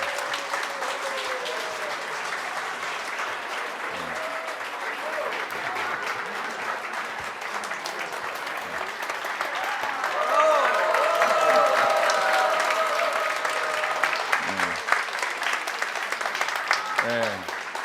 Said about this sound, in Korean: 우리 다 같이 박수로 환영해 주시면 감사하겠습니다